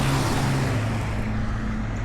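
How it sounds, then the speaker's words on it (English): Light road traffic on a street walk, a steady low rumble of passing vehicles that holds evenly throughout, with no talk. "this is light traffic compared to what we used to"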